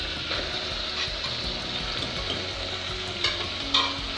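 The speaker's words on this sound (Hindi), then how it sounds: "हाई फ्लेम पे हमें अच्छे से कीमे को हमारे भूनना है" Boneless mutton keema fries hard on a high flame, a steady loud sizzle close by with scraping stir strokes and a few sharper spatters near the end.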